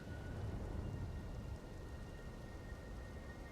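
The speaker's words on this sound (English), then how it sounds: "Wait, how is it raining inside of here?" Steady rain hisses in Elden Ring, falling inside a roofed interior with a low rumble like distant thunder, a continuous quiet wash with no talk.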